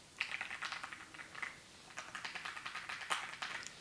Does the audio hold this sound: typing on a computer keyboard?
yes